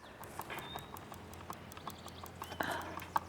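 An alpaca kicking out during training, its hooves clopping in a quick, irregular series of close knocks with one sharp strike near the end, over faint background noise.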